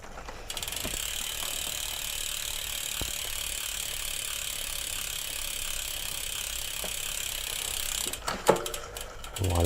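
A ratchet clicks in a rapid, steady run of metallic pawl ticks while loosening a bolt on an electric bike, close and continuous, ending with a few sharper knocks and clunks.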